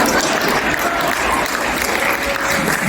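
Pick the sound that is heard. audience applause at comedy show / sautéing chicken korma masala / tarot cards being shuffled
audience applause at comedy show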